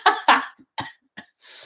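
Several short, harsh coughs from one person, close up: two strong bursts, then three weaker ones at uneven gaps, ending with a breathy exhale.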